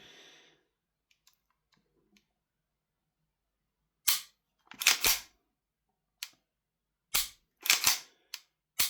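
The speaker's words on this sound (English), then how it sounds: "So let's test the trigger on this thing." RWA Nighthawk Custom Sandhawk gas blowback airsoft pistol trigger, sharp crisp clicks of pull and reset in separated single and paired snaps, close and loud in near silence.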